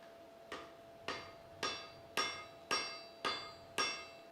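A wrought iron billet is hammered during forge welding, with eight evenly spaced, sharp metallic strikes about half a second apart, each ringing briefly over a faint steady hum, with no talk.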